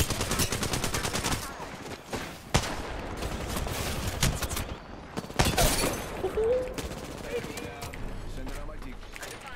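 Heavy gunfire in a shooter game where a Kraber rifle is in play, dense rapid bursts with several sharp louder cracks standing out, close and loud amid game effects.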